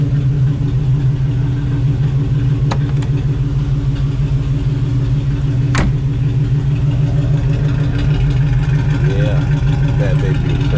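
A 1967 Chevrolet Impala convertible idles nearby with a deep, steady rumbling engine note, fitted with coilovers and new trailing arms, holding a constant loud throb throughout with a couple of brief sharp clicks.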